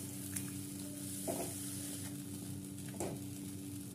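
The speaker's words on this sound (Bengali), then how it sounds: "ফেটানো টক দইটা দিয়ে দিলাম, দিয়ে ভালো করে নেড়ে মিশিয়ে নেব।" Whisked sour yogurt being stirred into a cashew-paste masala in a pan for a bottle gourd and paneer curry, with a faint steady sizzle and two soft scraping strokes of the spoon, close and quiet.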